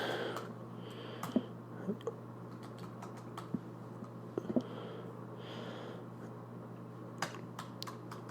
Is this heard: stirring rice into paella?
no